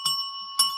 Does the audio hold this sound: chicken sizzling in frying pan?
no